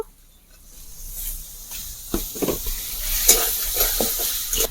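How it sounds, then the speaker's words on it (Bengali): Chopped tomatoes hit a hot spice paste in a pan and set off a sizzle. The hiss swells and crackles over several seconds, close and moderately loud, with no talking. "এবার এর মধ্যে আমি কুচিয়ে রাখা টমেটার দিয়ে দেব"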